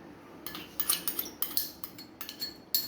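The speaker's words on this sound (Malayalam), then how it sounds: "നന്നായിട്ടൊന്ന് ഇളക്കി കൂട്ടാം" A metal spoon clinks and scrapes against a pot while stirring a Kerala curry of raw mango and dried shrimp, producing a quick run of close, light taps with no talking.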